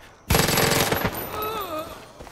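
Loud bursts of rocket launcher fire and gunshots from the video game Far Cry 5 open with a sharp blast, followed by a dense rattle and fading tonal whine, with a voice faintly present.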